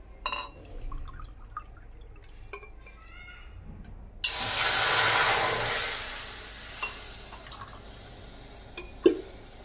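Water poured from a cup into a pan for semolina in a home kitchen, a broad steady pour of a few seconds after small clinks, ending with a brief sharp knock.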